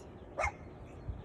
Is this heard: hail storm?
no